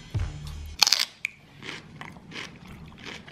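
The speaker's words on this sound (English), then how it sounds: "it's just tradition that I go in with some celery" A loud, close crunch as someone bites into a crisp celery stick loaded with toffee apple peanut butter, followed by softer, rhythmic chewing.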